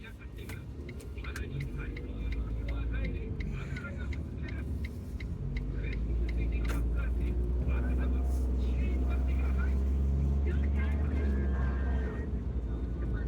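A car drives along a dim road, its engine rumble steady at first and then growing fuller and louder as another vehicle passes, while people talk over it.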